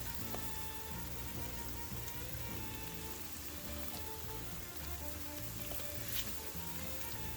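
Steady broadband sizzle of food sautéing in a pan for spaghetti and meatballs, a continuous crackling hiss with no gaps, close and even in level throughout.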